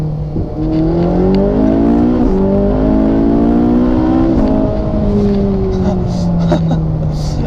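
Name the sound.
Ferrari V8 engine accelerating and shifting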